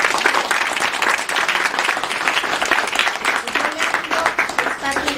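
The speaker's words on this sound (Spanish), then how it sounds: "les pido otro aplauso" An audience at a fourth-grade school presentation claps in a steady burst of applause, close and sustained, with voices faintly mixed in.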